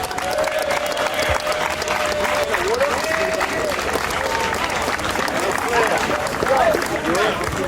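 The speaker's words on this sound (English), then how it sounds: "Let's clap it up for the wheelchair gang one time" A street crowd at a New York Sunday wheelchair rolling event claps steadily for the wheelchair riders, dense applause with shouts and voices mixed through it the whole time.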